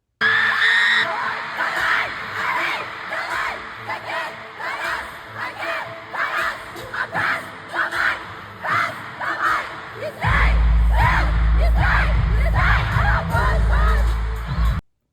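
A concert crowd at a show in Oakland screams and sings along, loud and dense, with surging cheers and shouts, then a heavy bass-driven music swell joins near the end.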